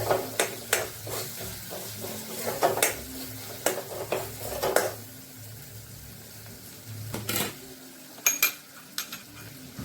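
Soft sizzling of ginger-garlic paste frying in oil, broken by repeated scraping and clinks of a spoon stirring against the pan.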